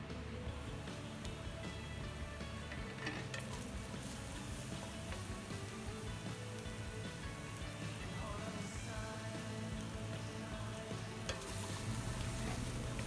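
Black bean paste frying and being stirred in a pan for jajangmyeon, a steady crackling sizzle with scraping stir strokes, moderately quiet and continuous throughout.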